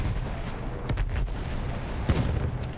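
Scattered battlefield explosions and gunfire in Battlefield 1 multiplayer Conquest at Amiens, a dense, fairly quiet wash of distant blasts with a few sharper cracks standing out.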